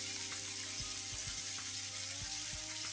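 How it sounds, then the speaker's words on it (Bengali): Jackfruit pieces frying in oil in a pan for a vegetarian curry, a steady close hiss with occasional soft stirring clicks and no talking. "তো এখন আমি কাঁঠালগুলি একটু ভেজে নিব।"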